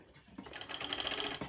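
Quiet, quick rhythmic stitching from a sewing machine as it topstitches a seam on a pair of bottoms, lasting just over a second with no talking.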